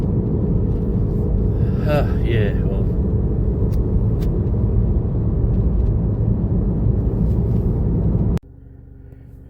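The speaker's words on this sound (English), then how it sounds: "Just got a few trucks behind me." Steady road rumble from a car with several trucks following behind, loud and continuous under brief talk, until the noise drops abruptly near the end.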